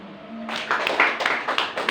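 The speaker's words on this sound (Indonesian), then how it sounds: "Tepuk tangan untuk kalian semua." Schoolchildren in a classroom clapping their hands together, a short burst of several uneven claps that starts abruptly after a moment of quiet and sounds close and fairly loud.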